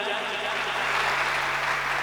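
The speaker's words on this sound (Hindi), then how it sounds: "एक बार उनके लिए आपकी भरपूर तालियां हो जाएं" Audience applause at a Hindi comic poetry gathering (kavi sammelan), a dense steady wash of many hands clapping that holds evenly for about two seconds, with a faint hint of voices underneath.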